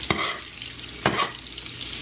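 Salmon pan-fried in nutty brown butter, being basted with rosemary: a steady close sizzle with two sharp spoon-and-pan clatters as butter is spooned over the fish.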